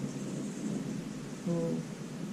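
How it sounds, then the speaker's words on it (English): A storm rumbles with low, distant thunder, a steady dull roll under a rain-like hiss that swells slightly near the end. Nobody speaks. "I hope you can hear that thunder."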